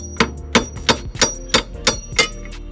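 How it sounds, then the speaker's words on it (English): Heavy hammer striking the steering knuckle of a 2001 Lexus IS300 during hub and spindle replacement: about seven loud, ringing metallic clanks in a steady, repeated rhythm, close up and alone. "what you want to do with this is a heavy hammer"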